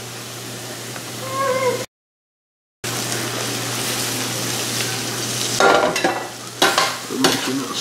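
Shrimp frying in butter in a pan, a continuous close sizzle broken by a brief gap of silence, then louder crackling and stirring bursts, with a cat meowing faintly early on.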